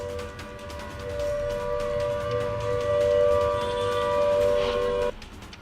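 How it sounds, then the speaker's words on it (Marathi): A civil defense siren sounding in Dadar, Mumbai, during a mock drill, a sustained steady wail with a low rumble beneath, cutting off abruptly near the end. "यावेळी मुंबईमध्ये कशा पद्धतीनं हे मॉकड्रिल होईल याचं दादर इथं आज सायरन वाजवण्यात आले."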